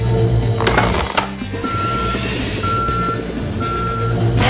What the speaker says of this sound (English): back the loader up to the back of the truck